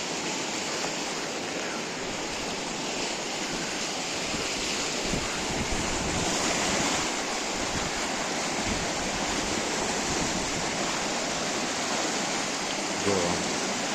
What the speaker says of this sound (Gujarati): આ જાય છે ગંગા નદીનો પ્રવાહ.